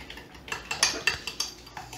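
A fork or whisk beats eggs with cream, vanilla and cinnamon in a cup, producing quick regular taps and clinks against the rim, soft and close, with no talking.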